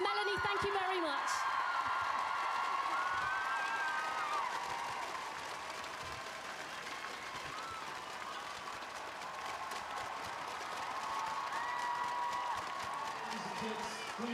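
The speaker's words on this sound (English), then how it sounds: "Let's give her a huge round of applause." Sustained crowd applause with some cheering at the Olympic torch relay's arrival in Wales, a steady dense wash of clapping lasting throughout, with a voice speaking over it early on.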